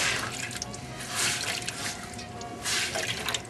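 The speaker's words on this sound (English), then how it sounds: "So you swish it around in there so that it's just slightly blue. Rinse it out." Laundry swished and rinsed in a basin of bluing water, soft sloshing and dripping splashes in uneven bursts, close and fairly quiet.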